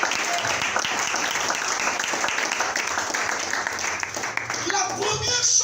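Church congregation applauding and cheering together, a dense steady wash of clapping with voices mixed in, loud and sustained throughout.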